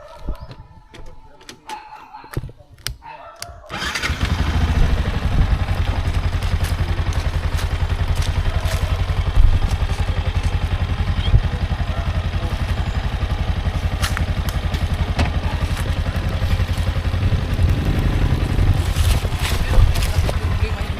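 Motorcycle engine labouring up a hill, loud and continuous after a quieter opening with knocks and clatter, droning steadily close by with rattles over the top.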